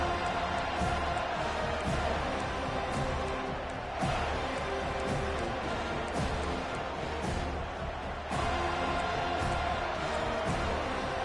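Stadium crowd noise in a college football video game, Florida at FSU, rises as a loud, steady roar of cheering with a few swells, heard without talk over it.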